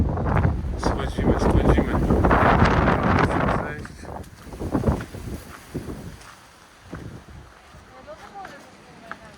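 Gusty wind at Preveli Beach, Crete, buffets the microphone in strong rumbling bursts that ease off, with a voice speaking briefly amid the gusts.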